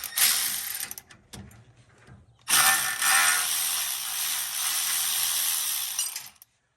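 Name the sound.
removing half-inch bolt from StableLoad bracket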